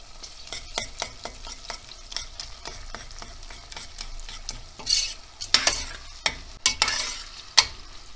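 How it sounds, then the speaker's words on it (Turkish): Tomato paste and pepper paste fry in a pan with onions while a utensil scrapes and stirs, producing repeated sharp scraping strokes over a soft crackle. "Salçamızın kokusu çıksın, biraz kavrulsun."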